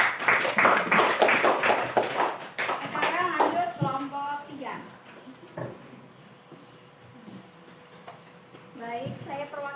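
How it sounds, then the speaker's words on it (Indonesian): Students clapping for a presenting group in a classroom, a quick rhythmic burst of hands at the start, followed by children's voices and chatter as it fades. "Tepuk tangan untuk kelompok 2"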